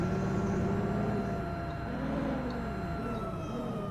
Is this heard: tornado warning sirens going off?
yes